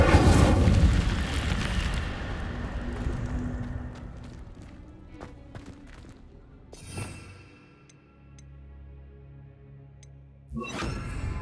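Casting the Incendio fire spell in Hogwarts Legacy opens with a loud, roaring burst that fades into crackling, flickering embers. A second sharp flare comes near the end, with no one speaking.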